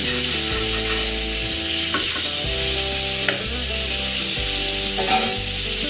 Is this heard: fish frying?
yes